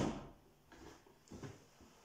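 A plastic box slapped hard to stand in for a closing door gives a few dull, hollow thumps, one strong hit at the start and softer knocks after, close and fairly quiet with no talk.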